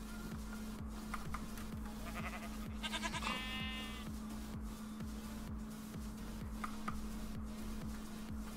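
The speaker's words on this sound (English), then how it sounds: "Some more goats." Goats in the video game Minecraft bleat a few times in quick succession, a short burst of synthetic cries over looping game music with a constant low drone and regular ticking pulses.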